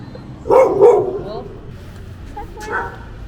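A small pit bull on a street in León, Nicaragua lets out a couple of quick, close barks and yips, followed by a softer whimpering yelp a moment later, with faint background noise around.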